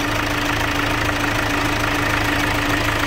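Running engine of a Chevrolet Captiva, heard as a loud, steady close-up idle with a constant low hum and a faint ticking texture while the power steering fluid is being flushed.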